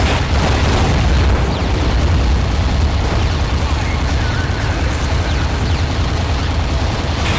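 Explosions from destroyed targets in the underwater combat game Aquanox, a dense continuous roar of booms and bursts filling the whole stretch at high volume, with layered gunfire-like crackle and a voice talking over it.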